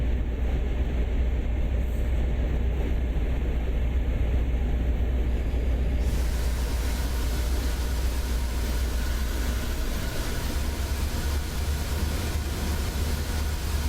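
Commuter train on the Peninsula Corridor in Train Sim World pulling into San Mateo station, a steady loud low rumble and rolling noise throughout with no talk.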